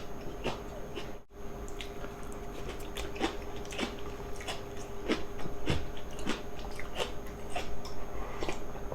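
Close, wet chewing and biting of chicken stew cooked with aged kimchi (mukeunji) at a home meal, with repeated squishy, crunchy mouth sounds at a steady pace over a low background hum.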